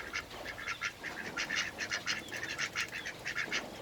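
Ducks quack repeatedly in short, uneven bursts, fairly close, with a light outdoor background and no talking.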